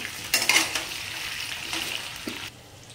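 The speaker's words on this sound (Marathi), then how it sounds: "आणि आता जो आपला हा वाटप राहिलेला आहे तो पण ह्याच्यामध्ये ॲड करूया। चांगलं मिक्स करून घेऊया।" Masala paste being stirred into eggplant and potato slices frying in a pan, soft sizzling with a few scraping stirs and clinks early on, fading slightly toward the end, with no talk.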